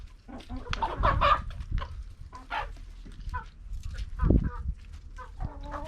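Chickens cluck repeatedly nearby, with clucks scattered throughout while a person talks over them.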